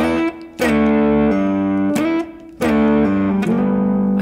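Slowly played guitar lick, picked notes and short phrases with clear attacks separated by brief gaps, each note ringing out loud and close.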